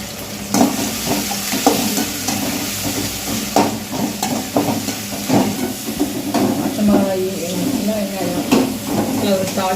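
Green chili, shallots, curry leaves and tomato fry in hot oil as a tempering for a country chicken curry, with a loud, close sizzle and hiss broken up by repeated stirring clatter.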